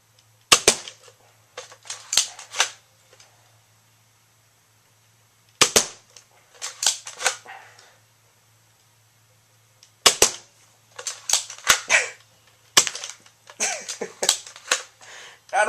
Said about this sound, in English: I'm shooting at them zombies, Lily.